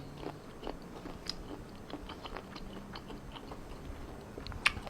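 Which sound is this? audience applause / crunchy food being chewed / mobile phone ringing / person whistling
crunchy food being chewed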